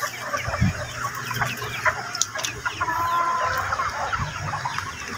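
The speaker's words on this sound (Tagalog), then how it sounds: "Ito na lang yung tandang oh." A rooster clucks and calls in short bursts amid outdoor farmyard ambience, with other birds faintly in the background.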